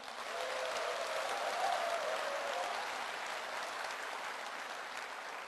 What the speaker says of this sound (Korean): 여러분, 박수를 시작하겠습니다.